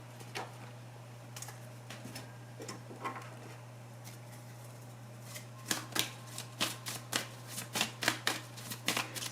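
Oracle cards being shuffled by hand, with light crisp riffling at first that grows into a steady run of sharper rhythmic card slaps, close up over a low constant hum.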